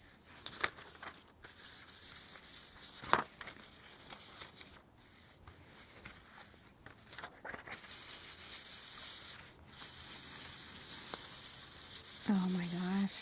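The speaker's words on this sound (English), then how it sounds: "and then we're gonna go ahead and burnish it." Burnishing an IOD floral transfer onto a wooden frame during a botanical makeover: steady close rubbing and scraping strokes over the surface, with a few sharper scuffs and a brief squeak near the end, no talking.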